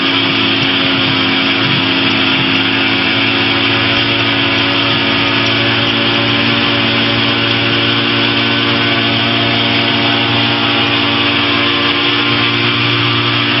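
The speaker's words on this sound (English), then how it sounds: "we're going to hold on the brake, we're going to center with the runway, and then we're going to throttle up and go" A small airplane's engine drones loud and steady, a dense sustained roar filling the whole clip as it holds power on the runway for takeoff, with no voices.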